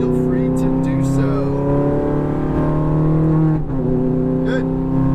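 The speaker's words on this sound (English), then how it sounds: "If you would like to go full throttle down the straightaway, feel free to do so." A Ferrari F430 driven at full throttle down a racetrack straightaway, its engine a loud, sustained, steady drone close by in the cabin.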